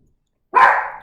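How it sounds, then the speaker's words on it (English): A single dog barks once, close and loud, after a second of silence, the bark tapering off over about half a second. "there goes the dog"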